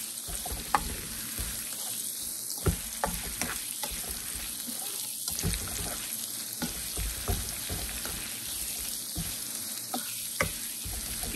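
Strips of poblano chile frying with nopales in a pan, a steady close sizzle with occasional soft clicks and stirring scrapes.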